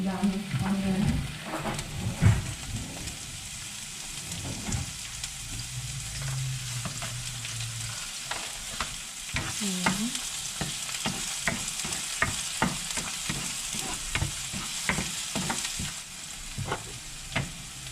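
Onions and ginger fry in a pan with a continuous crackling sizzle. Frequent quick clicks and taps of a utensil stirring run through it, and a low hum plays underneath in the first half.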